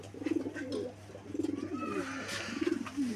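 Lahori pigeons cooing close by in a loft at a fancy pigeon sale: repeated throaty, rolling coos in several bursts over a steady background hum, with faint chirps.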